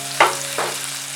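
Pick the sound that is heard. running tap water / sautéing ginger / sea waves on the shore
sautéing ginger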